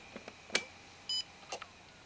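A short electronic beep from an NEC laptop as its sleep switch is pressed sounds once amid a few soft clicks and taps, quiet and close by.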